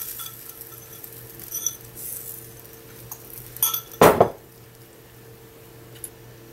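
Pancake batter scraped from a bowl into a preheated skillet: a short burst of scraping and clinking utensils near the middle, amid soft kitchen clatter.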